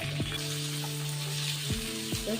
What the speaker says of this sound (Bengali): পেঁয়াজটাকে একটু তেলের মধ্যে নাড়াচাড়া করে দেবো যাতে পেঁয়াজটা নরম হয়ে গেছে।